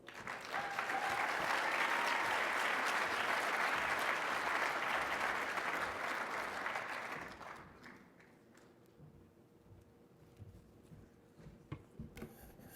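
An audience applauds to welcome Jonny 5 at a Rotary Club of Denver gathering: loud, dense clapping for about seven seconds, then it fades quickly into quiet room noise with a few scattered claps.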